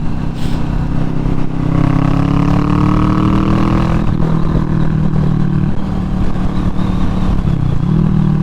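A Kawasaki Vulcan S motorcycle fitted with a Delkevic slash cut slip-on exhaust rumbles loudly and steadily, its low engine drone rising slightly in pitch at points, with wind noise on the road and no talking.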